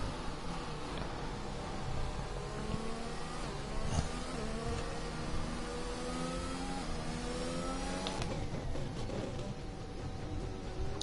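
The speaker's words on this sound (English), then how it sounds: "Oh, that engine didn't sound good." Simulated Formula 1 racing car engine from a racing video game at the Portuguese Grand Prix, a continuous buzzing drone with rising and falling pitch sweeps and a brief shift near the end, steady and fairly loud throughout.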